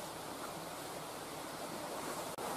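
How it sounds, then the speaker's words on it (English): River water flows steadily beside broadleaf woods with standing sycamore trees, a continuous close rushing wash with no voices. "I've come over by the river"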